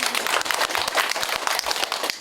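A village meeting audience in rural Pyeongsan-ri, Hongseong, claps together after a talk with the county head; dense, steady applause, fairly close, fills the whole moment with a few hand strikes standing out.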